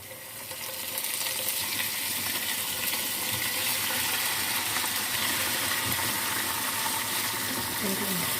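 Chicken pieces go into a pan of lightly fried onions and start frying with a broad, steady sizzle. There are occasional scraping and clinking sounds, and the sizzle holds at an even level throughout.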